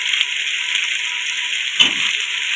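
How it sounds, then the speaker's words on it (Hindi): Chicken going into a pan of hot masala for aloo gosht: a steady bright sizzle throughout, with a brief louder splash and crackle near the end as the pieces hit the oil. "अब हम इसमें डालेंगे चिकन, ताकि ये भी स्वाद अच्छे से फ्राई हो जाए"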